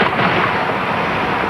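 A bomb squad water cannon fires to disrupt a suspicious explosive package, letting out one loud, sustained, broadband blast and rush that fills the whole moment.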